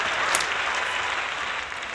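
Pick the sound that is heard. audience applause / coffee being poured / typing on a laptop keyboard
audience applause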